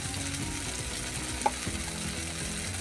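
Ground spices and chili powder frying in oil for a catfish curry, a steady close sizzle with low scraping stirs and one brief sharp clink midway.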